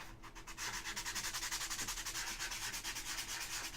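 A sandpaper block rubbed back and forth over a small puzzle piece, giving quiet, evenly paced scratchy strokes that repeat steadily throughout.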